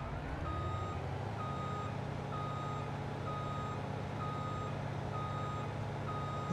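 Reversing alarm of a truck in Farming Simulator 22, a steady run of evenly spaced electronic beeps, about one per second, over a constant low diesel engine rumble, with no talking.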